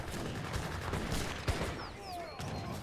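Infantry fire in Age of Empires 3 in a steady crackle of distant overlapping musket shots, with one sharper crack, under a busy battle din with faint whistling.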